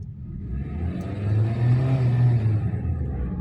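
A 2023 Honda Civic engine revved lightly from idle, a close low rumble that swells and settles back, alone without talk.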